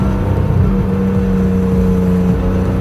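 A Porsche RSR Rebel sports car engine drones loudly and close by, its pitch shifting as it moves into third gear.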